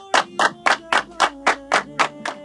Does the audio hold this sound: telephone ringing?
no